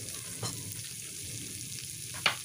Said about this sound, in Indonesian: Jahenya yang tadi sudah dicincang mau saya masukkan terlebih dahulu.